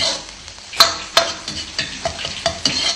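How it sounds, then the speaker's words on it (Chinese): Scallion and ginger shreds stir-fry in hot oil for braised sea bass, a bright continuous sizzle broken by several sharp spatula scrapes and clanks against the wok. "这边再葱姜丝爆一锅"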